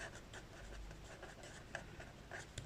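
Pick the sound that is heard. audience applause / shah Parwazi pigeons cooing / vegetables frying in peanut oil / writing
writing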